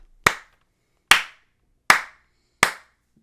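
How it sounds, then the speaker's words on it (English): Four sharp hand claps sound one after another, evenly spaced and crisp, with silence between each. "I'm going to stop clapping for a while"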